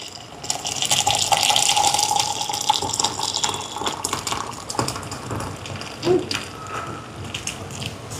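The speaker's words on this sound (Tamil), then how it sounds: "இதில் தண்ணி கொதிக்க வச்சுருக்கேன். ஊற்றுவோம்." Steady rushing splash of boiling water being poured into flour, continuous for several seconds with a brief clunk near the end; no voices.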